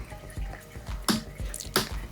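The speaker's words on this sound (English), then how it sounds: "So I like to sit it on top and let it drip through." Hydraulic brake fluid from a Shimano XT/XTR disc brake bleed dripping through into an old waste oil container, a run of distinct close drips and small splats in a steady uneven rhythm, with no voices.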